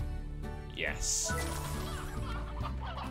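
Game-style chicken clucks and squawks from Slime Rancher pop up briefly while a person talks steadily over light background music.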